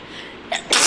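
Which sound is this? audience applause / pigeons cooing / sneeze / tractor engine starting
sneeze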